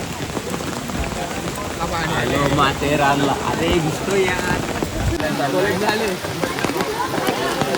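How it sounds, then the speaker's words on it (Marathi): Steady rain falls at Matheran hill station during the monsoon, a dense continuous patter close by, with people talking over it throughout. "मस्त पाऊस पडते गाईज"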